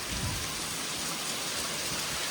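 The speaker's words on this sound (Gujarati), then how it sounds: "આજે ફાઇનલી વરસાદ હવાર હવારમાં આવે છે" Morning rain falls steadily and heavily after hot weather, a dense, even hiss of drops on surfaces that lasts throughout with no voices.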